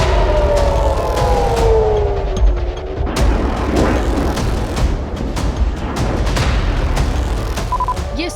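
Air raid sirens wail across a city at midnight during the Israel-Iran war, long rising and falling tones layered over heavy rumbling noise and scattered sharp bangs.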